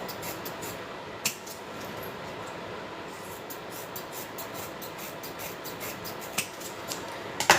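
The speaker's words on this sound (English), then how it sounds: "Now I'm going to trim my corners, get all this excess fabric out of my corners." Scissors trimming excess fabric from the corners of a sewn piece, a series of soft, rhythmic snipping clicks close by over faint room noise.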